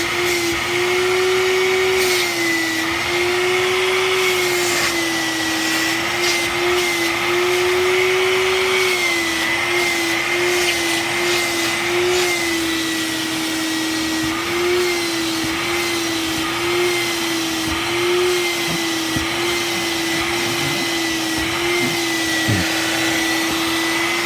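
A Shop Vac 500X 1-gallon mini wet/dry vacuum rated at 1 horsepower runs steadily and loudly throughout, a constant close motor whine with a slight wavering pitch and no talk.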